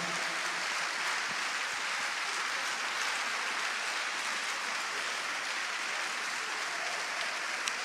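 A church congregation applauds steadily and densely for the whole stretch, a broad, even wash of clapping at constant loudness with no clear pauses.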